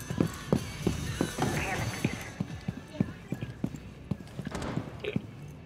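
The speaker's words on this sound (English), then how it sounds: "I just heard footsteps drop. There's somebody around me. They're above me." Footsteps of an enemy player moving overhead in Rainbow Six Siege, a steady series of sharp thuds under ongoing game noise and a talking voice.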